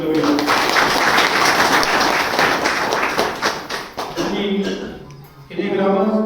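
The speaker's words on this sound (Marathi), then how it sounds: "सर्वप्रथम आपण टाळ्या वाजवून आपण त्याचं स्वागत करूया." A crowd claps to welcome a guest at a village felicitation gathering, with dense, sustained applause for about four seconds before a voice takes over, speaking over a fading patter of claps.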